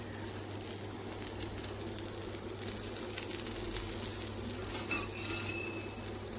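Dosa batter cooks on a hot pan, a low steady sizzle with scattered scraping and utensil clinks against the metal surface, heard up close with no talking.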